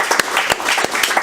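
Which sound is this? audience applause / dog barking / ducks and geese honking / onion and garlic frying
audience applause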